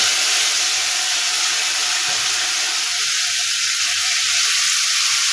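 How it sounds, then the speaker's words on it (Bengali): Onions fry in hot oil in a pan, a loud, steady, close sizzle with continuous hiss that holds through the whole stretch. "পেঁয়াজ হালকা সব হয়ে যাওয়া পর্যন্ত ভেজে নিচ্ছি"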